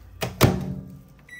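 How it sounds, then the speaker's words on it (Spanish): Two sharp clunks of a microwave oven door and button, then a fading hum and a short high beep as a squash blossom quesadilla goes in to heat; no talking. "Y lo llevamos al microondas."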